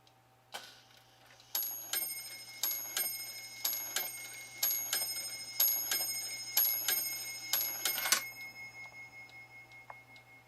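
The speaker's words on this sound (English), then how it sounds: "it's got a beautiful chime to it" An antique mechanical clock chimes a steady run of bright, ringing strikes over about seven seconds, each tone decaying into the next, then fading out with a soft low hum beneath.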